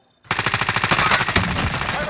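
Rapid automatic gunfire in a trios battle-royale video game, a fast loud burst of evenly spaced shots rattling on for about two seconds after a brief silence.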